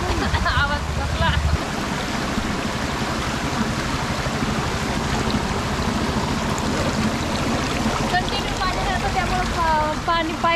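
Roaring waterfall pouring over mossy, slippery rocks, a loud, steady broadband rush of falling water that fills the whole clip without a break.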